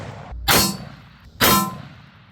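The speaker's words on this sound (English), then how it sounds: "green tip out of the FN FS 2000" Two sharp, loud rifle reports from an FN FS2000 firing green tip rounds, spaced about a second apart, each a hard crack with a short decaying tail over low background noise.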